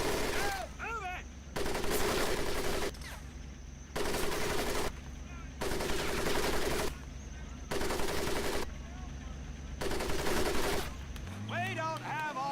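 Repeated bursts of automatic gunfire in the video game Medal of Honor Pacific Assault, roughly a second long each with short gaps, loud and rhythmic, while a voice speaks between and under the shots.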